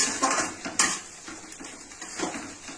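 A spoon scrapes and knocks against a pan as potatoes are stirred into a spice masala, giving a few close metallic clinks and scrapes with no talking.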